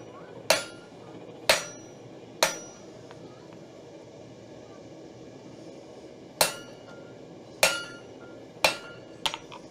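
Hammer blows on metal at an anvil, seven sharp ringing strikes spaced irregularly across several seconds, each decaying quickly, close and alone against a quiet room.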